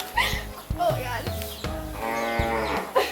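A cow moos several times at close range, a series of deep, drawn-out lowing calls, with people talking and exclaiming between and over them.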